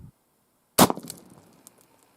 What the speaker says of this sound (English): shoot one of these with a .357 Magnum and see what that does